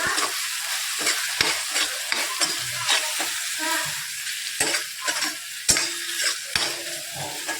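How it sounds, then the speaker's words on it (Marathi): A spoon scrapes and stirs dry spices into tomato-onion masala cooking in a pan, with irregular scraping strokes over a soft background sizzle and no talking. "इथे आता आपण सगळं पूर्ण मिक्स करून घ्यायचे तर सुके मसाले"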